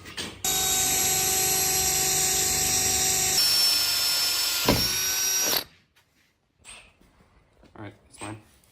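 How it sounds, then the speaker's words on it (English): A power drill drives a self-tapping screw into the roof of a 1957 Chevy station wagon, a loud steady whine for about five seconds with a pitch shift midway, then it stops and faint knocks and movement follow. "Probably just self-tapper it to the roof."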